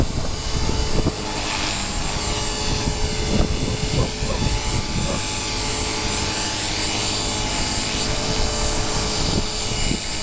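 A V450D RC helicopter flies nearby on a windy day, its rotor and motor holding a steady, droning whine with a high-pitched tone throughout, and buffeting wind noise beneath.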